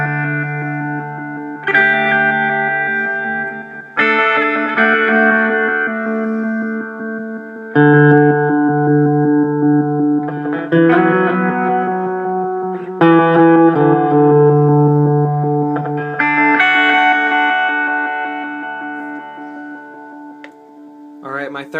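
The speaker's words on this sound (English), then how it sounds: "my second setting, I have this stored at a reverse delay" Guitar run through a delay pedal preset set to reverse delay with added reverb, giving swelling, backward-blooming sustained notes that wash into pad-like layers, fairly loud and continuous with no talking.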